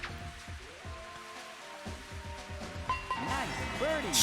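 Steady rain hiss in the N64 game Mario Golf, a continuous wash of patter running under game music and a commentator's voice throughout.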